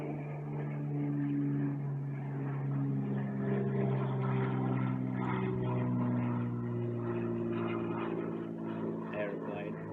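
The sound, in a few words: aeroplane flying overhead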